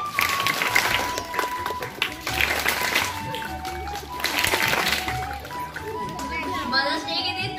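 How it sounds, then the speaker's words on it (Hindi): Loud, sustained applause fills a school Mother's Day celebration, with children's voices and chatter mixed into the clapping crowd throughout. "मदर्स डे के दिन तालियों की आवाज बड़ी जोर से आ रही है।"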